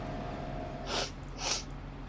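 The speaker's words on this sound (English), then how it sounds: "Again, sorry for sniffling." Two quick sniffles, about half a second apart, close and fairly loud over a low steady background hum.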